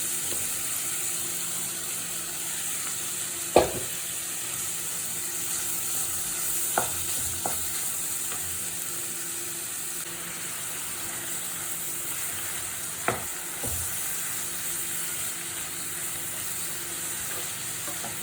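Long bean thoran with coconut paste in a pan: a steady low sizzle runs throughout, broken by a few sharp scraping stirs of a spoon against the pan.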